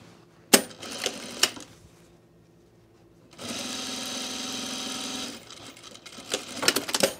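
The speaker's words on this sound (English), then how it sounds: "We have our front, so let's sew the shoulders." A sewing machine stitches the shoulder seams of a blazer in short bursts, with brief clicks and pauses between runs of steady, close, fairly loud motor hum.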